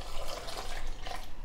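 Water pours into a blender jar that already holds guavas and a banana, making a brief, steady splashing gurgle at close range with no talk over it.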